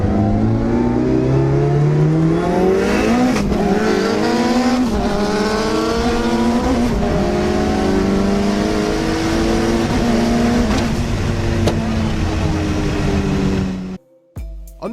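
A TRP-built 750 hp Mitsubishi Evo 8 MR with Emtron engine management and a Samsonas gearbox accelerates hard in a race. Its loud, close engine climbs through several gear changes for about fourteen seconds, then cuts off abruptly.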